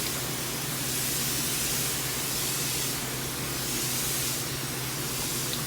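A spray bottle mists water onto a hanging Hoya Bella plant at a kitchen windowsill, giving a steady close hiss that pulses gently over several seconds.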